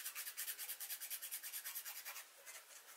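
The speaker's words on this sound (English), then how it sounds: "so that it doesn't get in the way of me filing my nail" A nail file rubbing back and forth on a fingernail during a manicure, close, quick rhythmic rasping strokes, about a dozen in steady succession, then a few slower ones.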